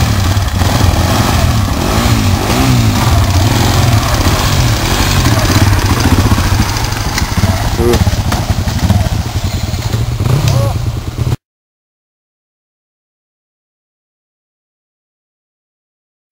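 Enduro motorcycle engine running close by on a trail ride near Axat, a loud steady rough drone with slight rev swells, voices talking over it before the sound cuts off abruptly.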